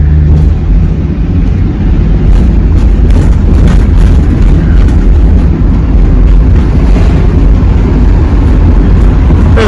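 A 2007 Chevy Express van engine idles steadily, a continuous low rumble with dense low-end energy holding at even loudness throughout, with no voices.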